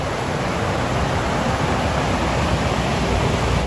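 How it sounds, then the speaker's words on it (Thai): A resort waterfall beside a stream near the Nakhon Nayok river gives off a loud, steady rushing roar of falling water, constant and unbroken throughout, with no voices. "เสียงน้ำไหลหลากเลยนะ"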